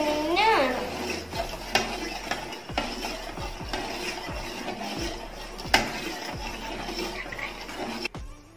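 Ingredients for a biscuit fruit pudding being mixed in a bowl, with repeated rhythmic clinks and scrapes of a spoon against the bowl and a brief voice at the start.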